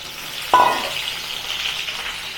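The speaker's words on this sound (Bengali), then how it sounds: "এই প্রথমে পটলগুলো একটু ছেড়ে দিলাম ভাজার জন্য" Pointed gourds (potol) dropped into hot oil, a sudden sharp sizzle burst followed by a steady close frying crackle and hiss.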